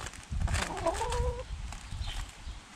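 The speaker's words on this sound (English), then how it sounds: "Oh, running chickens." Hens running in a backyard flock let out a quick series of soft, close clucks and a short rising squawk over low rustling ground noise.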